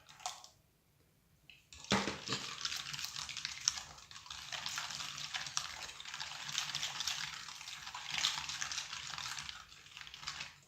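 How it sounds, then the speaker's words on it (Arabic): A cup of orange juice pours into semolina cake batter, a sudden continuous splashing gush that starts after a quiet moment and runs close and steady to the end. "نزيدو كاس د العصير"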